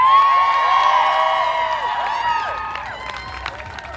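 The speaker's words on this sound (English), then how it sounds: "it seems like a pretty fired up crowd" A fired-up crowd at a Bans Off Our Bodies abortion-rights rally cheers, shouts and claps together in a loud, sustained roar, with whoops rising above the steady applause before it thins slightly toward the end.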